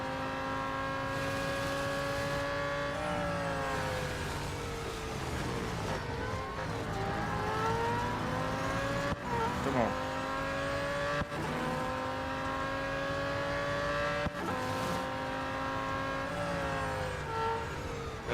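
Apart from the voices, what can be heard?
racing car engine accelerating in video game Real Racing 3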